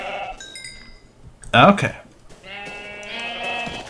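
Sheep bleating in Minecraft, a blocky video game, as a couple of short tonal bleats, one loud burst near the middle, while a person talks briefly over the game sounds.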